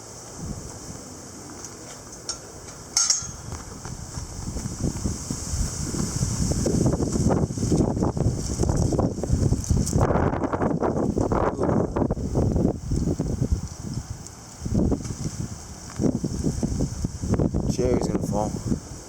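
Strong gusty wind in Kelowna, BC, roaring and buffeting the microphone in surging waves, loud and close, with someone talking over it.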